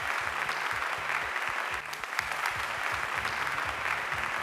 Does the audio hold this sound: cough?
no